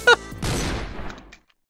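A single gunshot from a Roblox game rings out loud and close, with a sharp burst and a decaying tail lasting about a second, preceded by a brief tonal blip.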